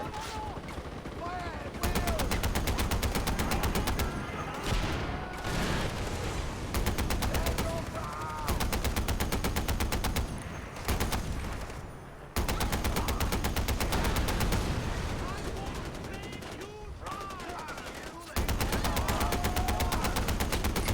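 A mounted DShK heavy machine gun in Far Cry 4 fires long sustained bursts of rapid, loud, booming shots with brief pauses between bursts, close up, while someone talks over it.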